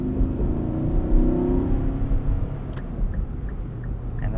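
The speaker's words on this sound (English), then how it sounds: "And this V8 sounds fantastic." A 2021 Infiniti QX80 Premium Select's V8 engine pulls the large SUV forward, a moderate rising drone with a swelling hum midway, then settling into a steady cabin rumble with faint clicks.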